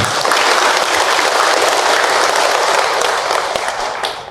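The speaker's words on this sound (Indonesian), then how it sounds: "tepuk tangan ibu untuk Ahilman" Dense applause from a women's audience at a Ramadan religious lecture, steady and loud throughout, thinning slightly toward the end, with no talk over it.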